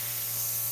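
An airbrush spraying paint gives a steady, close, bright hiss that holds evenly for under a second with no voices.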